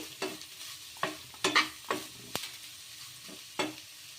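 Grated carrot and chopped vegetables sizzle gently in a pan while a spoon stirs and scrapes them in a series of distinct strokes, close and fairly quiet, with no talking.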